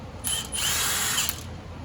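A power tool whirs continuously for under two seconds, close and loud, as it backs out the bolts on an engine's rear main seal cover.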